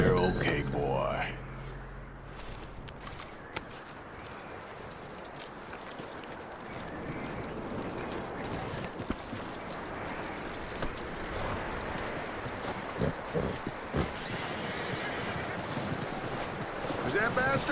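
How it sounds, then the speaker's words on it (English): Horse hooves clip-clop in Red Dead Redemption 2, a Wild West game set in 1899, a steady hoofbeat rhythm running under wind and ambient noise, with a voice speaking softly near the start. "That looks like a decent horse."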